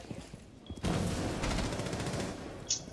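Video game gunfire: a sudden dense burst of rapid shots starts after a short quiet, then continues as a sustained crackling volley at moderate loudness, with a faint high blip near the end.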